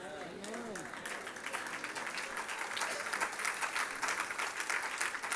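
An audience at a Malayalam Bible study on Revelation breaks into dense, steady applause that swells and holds after a brief voice at the start.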